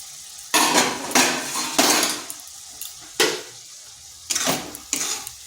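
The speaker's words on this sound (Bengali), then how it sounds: "এরপর দিয়ে দিচ্ছি মাশরুমগুলো" Mushrooms tipped into a wok of spice paste cooked down until the oil separates, then stirred: several loud, close bursts of scraping and sizzling rush in and fade, with quieter gaps and no talking.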